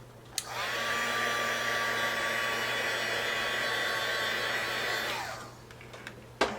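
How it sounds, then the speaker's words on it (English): A heat tool blows hot air steadily over freshly inked paper to dry it, a loud close whirring roar that holds for about five seconds and winds down, with a few faint clicks and handling noises before and after. No one speaks. "I'm going to heat set this for just a little bit, just to make sure that the ink is completely dry before I start coloring"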